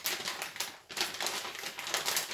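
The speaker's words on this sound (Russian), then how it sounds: "попробуем сюда запаковать соломку" Straw being packed by hand into a plastic bag, a continuous dry crinkling and rustling with quick bursts and one short pause, close and moderately loud.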